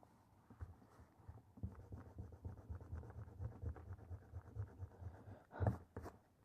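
An eraser being rubbed back and forth on paper, producing quiet, rapid rhythmic scrubbing strokes that run continuously, ending with a couple of sharper taps or knocks near the close.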